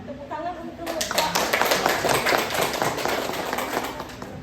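An audience at an Indonesian talk on fathers and exclusive breastfeeding claps for a man who has just answered, with a few seconds of brisk applause after a brief bit of speech.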